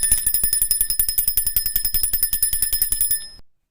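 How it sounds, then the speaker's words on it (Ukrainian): A small bell rings rapidly and continuously, with bright metallic tinkling hits in a fast steady rhythm, close and clear, then stops and fades. "Так, це малесенький дзвіночок"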